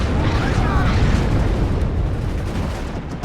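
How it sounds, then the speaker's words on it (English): Artillery fire in WARNO pounding enemy lines during a Bradley advance: a steady, heavy rumble of distant blasts, loud and continuous throughout the short stretch. "Artillery smacking their lines while the Bradleys push forwards"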